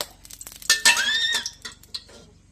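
Stir-frying pad kaprao in a pan, a brief burst of metal spatula clanks and scrapes against the pan with a faint sizzle underneath, close and busy.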